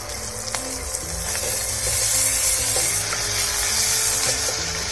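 Ginger garlic paste sizzles and fries steadily in a hot pan while making capsicum chicken masala, a continuous close crackle with light stirring and no talk.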